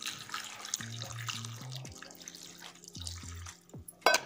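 Water poured into a hot cooking pot while making a kochai (taro) vegetable dish in a home kitchen, a steady running pour lasting a few seconds alone at close range, ending with a brief louder splash.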